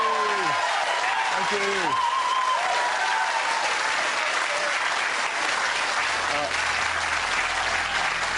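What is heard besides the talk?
studio audience cheering and applauding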